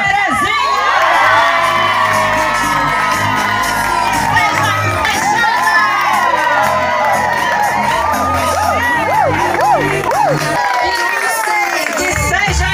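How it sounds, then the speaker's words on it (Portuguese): A crowd at a parish retreat of São José de Maracanaú cheers and shouts for Terezinha, with loud continuous whoops, high excited voices and yelling, dense and close throughout. "Com a maioria dos gritos e aplausos, senhora Terezinha!"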